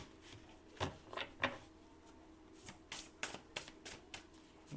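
A deck of oracle cards is shuffled nearby in quiet, quick bursts of riffling and flicking. Short pauses separate the bursts, and the pace grows busier toward the end.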